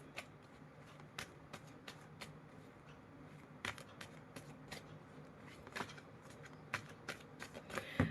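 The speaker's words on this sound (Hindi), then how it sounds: "देखिए, मुझे यहाँ पे कार्ड्स गिर गए हैं, उठा लूँ मैं।" Tarot cards slip and are gathered back up by hand, giving a series of faint, quick papery flicks and taps at close range in a quiet room.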